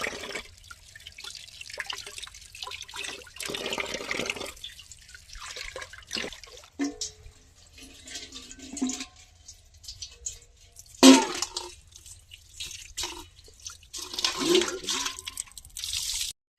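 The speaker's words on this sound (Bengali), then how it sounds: "গাজর ধোয়া হচ্ছে এখন।" Carrots are washed under water outdoors, with irregular splashing, dripping and trickling bursts that stop and start over several seconds, close by and moderately quiet.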